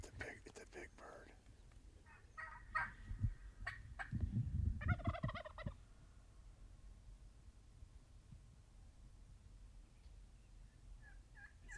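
Merriam's wild turkey tom gobbling on public land in Idaho, faint and distant, with a couple of rattling bursts against quiet outdoor background noise.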